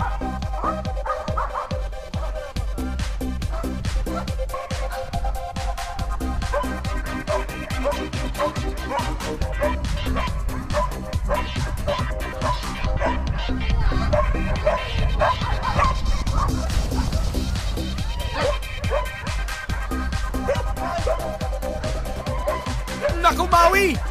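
A dog barks and yips while chasing contestants on an outdoor Filipino TV game show, its bursts mixed into constant loud music and excited commentary throughout.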